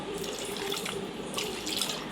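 Liquid pours steadily into a cooking pot, a soft continuous trickling splash that stays fairly quiet and close throughout.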